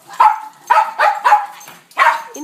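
A puppy gives four sharp, high yapping barks in quick succession, close and loud with short silent gaps between them.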